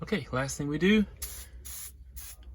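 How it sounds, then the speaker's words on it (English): Prist aerosol is sprayed in bursts inside an aircraft cabin during a jet shades install. Three short hissing sprays follow a voice. "spray everything with Prist, inside, outside, clean it up"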